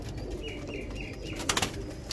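Pigeons at a Dubai pigeon club loft coo softly in a short repeating pattern, with a brief burst of flapping wings partway through.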